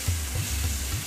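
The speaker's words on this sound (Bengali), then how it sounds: "মশলাগুলোর সঙ্গে চিকেন ভালো করে কষিয়ে নিতে হবে।" Chicken frying with spices in a pan over medium heat without water, a close, continuous sizzle with soft scraping as it is stirred.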